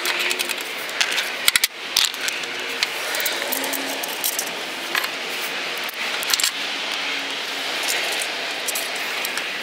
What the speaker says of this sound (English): Go ahead and insert our mounting bolts.